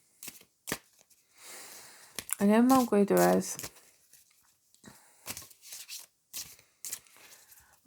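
Pocket-edition Wild Unknown tarot cards being shuffled by hand, giving soft, brief riffling and flicking bursts spread through the clip, close and fairly quiet, with a person talking over part of it.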